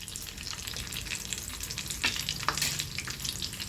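Potato rolls fry in hot oil with a steady, dense crackling sizzle close by, brief sharper pops rising now and then; no voices.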